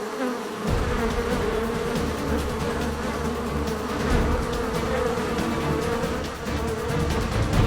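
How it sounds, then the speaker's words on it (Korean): Hornets attacking a honeybee colony, filling the air with a dense, continuous droning buzz of many insect wings, close and loud, with wingbeats shifting in pitch as insects swarm and fight. "날카로운 턱으로 꿀벌을 공격해 죽이는 말벌"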